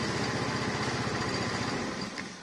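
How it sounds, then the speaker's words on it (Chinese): A motorcycle with a keyless start-stop anti-theft system, its small engine running with a steady, buzzy, close rhythm that holds the whole time and fades slightly at the end. "然后摩托车就会启动"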